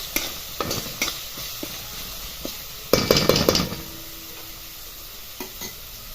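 Grated coconut stir-fried in a pan while cooking a green pea curry, with a spatula repeatedly scraping and knocking against the metal pan over a faint sizzle, and a louder flurry of stirring midway, close by.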